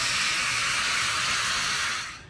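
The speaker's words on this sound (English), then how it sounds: "Then we're gonna go ahead and add water to a hot pan." Water hitting a hot pan while cooking a Mexican table sauce, a loud steady steam hiss close by that fades out at the end.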